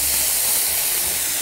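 Vegetables seasoned with salt and black pepper fry over medium heat in a preheated skillet, giving a steady, even, hissing sizzle throughout with no voices.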